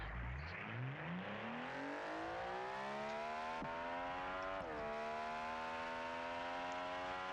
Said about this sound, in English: It's a turbocharged flat 6 pushing out 803 horsepower.